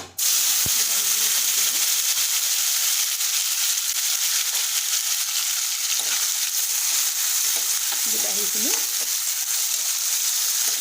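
Tomatoes fry in hot oil with a loud, continuous hiss and sizzle, with occasional soft scrapes of stirring.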